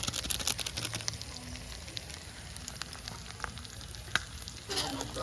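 Mutton curry sizzles and fries in a pot, crackling softly and steadily while a utensil stirs it with intermittent scraping and clinking taps. It stays close and fairly quiet throughout, with a brief louder clink near the end.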